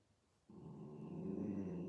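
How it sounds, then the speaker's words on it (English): A dog growls low and steadily after a short quiet start, a sustained throaty rumble that grows slightly louder and continues without a break, fairly close to the microphone with no talking. "So please forgive the barking dog."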